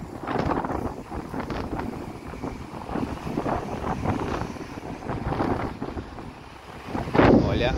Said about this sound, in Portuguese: o vento tá tão forte